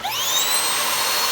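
A Dyson upright vacuum cleaner starts up in extreme cold, its motor whining upward in a rising pitched sweep that settles into a steady loud hum.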